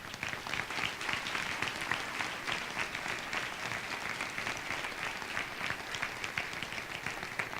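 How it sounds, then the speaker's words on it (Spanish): Church congregation applauding during a Spanish-language sermon, dense sustained clapping from a large crowd, steady and even for several seconds. "dele un aplauso al Rey esta mañana."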